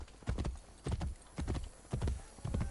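Horse hooves clip-clop in Assassin's Creed Brotherhood, a steady galloping rhythm of paired thuds repeating about every half second, moderately loud with faint background ambience.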